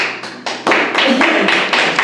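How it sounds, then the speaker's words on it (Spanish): A church congregation applauds during a worship service. The clapping starts in small patches and swells into a fuller, continuous round. "Vamos a darle un aplauso a la palabra de Dios."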